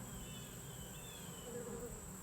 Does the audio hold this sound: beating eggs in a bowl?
no